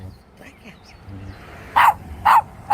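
Three sharp dog barks, close and loud, come in quick succession after a stretch of quiet voices and shuffling.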